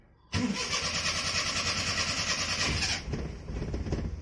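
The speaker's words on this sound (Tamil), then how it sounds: "கேஸில் அழகாக ஸ்டார்ட் பண்ணி அதுவே ஓடும்" A Maruti 800 carburetor car fitted with an LPG conversion kit cranks and catches on gas, the engine starting abruptly and running loud and close before settling into a steadier idle.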